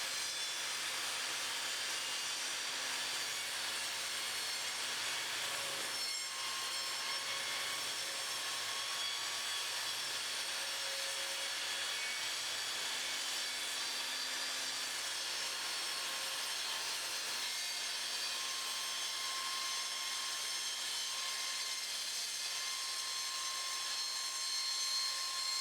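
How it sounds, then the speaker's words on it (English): Evolution Fury 5-S table saw rip cutting 3x2 timber, a steady high whine with a hissing blade-through-wood texture that stays constant and even throughout a long continuous cut. "I'm now going to do a rip cut in some 3x2 timber."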